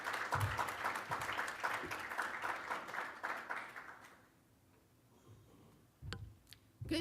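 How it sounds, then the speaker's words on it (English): Audience clapping at a Los Angeles Social Media Club event breaks out in dense applause for about four seconds, then fades, leaving a few scattered claps near the end. "So please give her a big round of applause"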